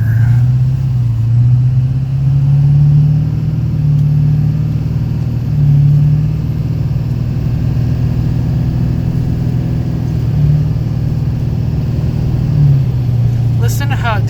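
A 2001 Duramax LB7 diesel truck with an Allison 1000 transmission driving, a steady loud engine drone with subtle pitch rises and drops as gears change smoothly, heard from inside the cab.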